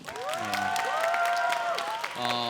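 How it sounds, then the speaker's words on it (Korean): A church youth group applauds newly arrived first-year middle school members, with clapping mixed with whoops, cheering voices and shouts rising and falling over the crowd. "우리 새로 올라온 우리 중1 친구들 위해 박수"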